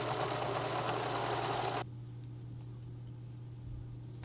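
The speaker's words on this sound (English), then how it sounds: "What the triple stitch does, it kind of pushes the fabric." A sewing machine runs a triple stitch on dress fabric, a steady close mechanical whir under a low hum that stops abruptly partway through, leaving a quiet background.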